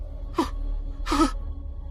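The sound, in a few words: panting gasp in an audio story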